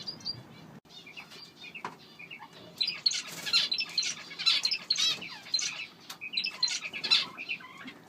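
Pet finches in an aviary chirp and squeak in quick, bright bursts, several birds calling over one another with soft rustling beneath.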